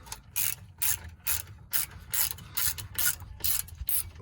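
A hand ratchet undoing the last bolt under a Ford Fiesta ST mk8: about eight loud, close bursts of rapid clicking at an even rhythm, each separated by a brief pause.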